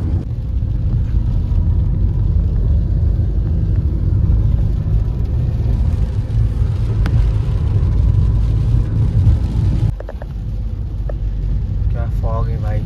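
A car on a road trip hums along with a steady low engine and road rumble from inside the cabin, a voice speaks briefly near the end.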